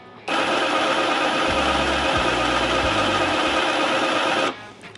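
ProCraft HD 20A cordless rotary hammer running at its lowest speed, a loud steady motor whir with a high whine, starting abruptly, holding evenly for about four seconds, then cutting off.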